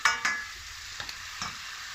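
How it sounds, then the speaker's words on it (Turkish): Rice is tipped into a pan with olive oil and leeks for a Turkish leek dish and stirred, giving a soft sizzle broken by a few scraping stirs near the start and middle. "Evet pirincini atıyorum."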